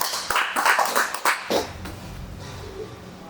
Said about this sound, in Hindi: एक बार आप सभी लोग अपने लिए भी ताली बजाएं